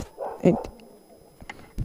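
A backyard dog gives a few short, close yips and whimpers, one sharper yelp standing out among faint low noises.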